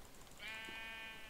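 A single blocky Minecraft sheep bleat rises partway in, thin and wavering, heard alone and quietly over a faint background hiss.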